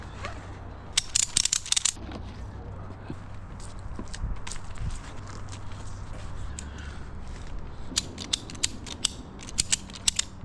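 A ratchet strap being cranked tight around a birch tree during a tree removal, with bursts of sharp, rapid metallic clicks from the pawl, a pause, then more clicking close to the microphone over faint outdoor background noise.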